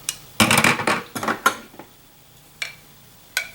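Metal stand mixer attachments, cake and cookie paddles, clatter and clink as they are handled, with a dense burst of knocks followed by a few sparse, isolated clanks.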